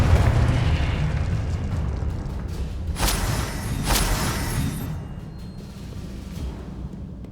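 Confringo fire spell blasts in Hogwarts Legacy, a dense rumbling game soundscape broken by two sharp bright bursts about a second apart, then settling into a lower steady roar.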